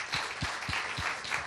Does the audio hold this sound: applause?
yes